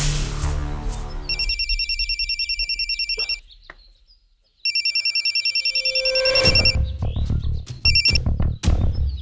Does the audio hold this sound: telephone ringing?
yes